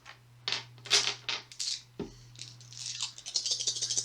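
Nine dice for a board game attack in Shadows of Brimstone rattle and clatter across a tabletop in quick bursts, near and crisp, with a steady low hum underneath and a busy scatter of clicks toward the end.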